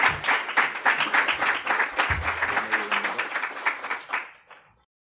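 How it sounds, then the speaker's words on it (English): Audience applause welcoming panelists at a parking-policy discussion event, a dense burst of clapping that holds steady for about four seconds, then thins out and fades to silence. "please give a big round of applause to have our panelists with us"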